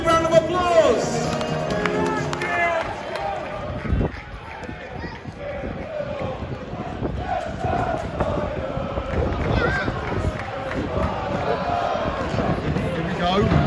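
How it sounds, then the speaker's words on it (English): Stadium crowd at a Fleetwood Town versus Gillingham football match applauding and cheering a group of young mascot children, a dense continuous wash of clapping and crowd noise throughout with chatter mixed in. "Give them a big round of applause."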